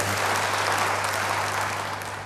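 Applause from a church congregation, a broad continuous wash of many hands clapping at fairly loud level, holding steady throughout with a low electrical hum underneath.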